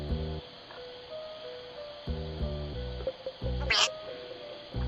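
A wild cat calls in several loud, harmonic bursts with short pauses between them, close to the listener and outdoors, with background noise and no clear speech.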